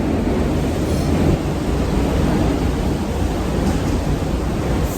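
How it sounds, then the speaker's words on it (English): Strong wind roars and buffets the microphone continuously on the Lahaina waterfront during the wildfires, a dense low rumble with steady broadband gusting and no voices. "But it's so windy."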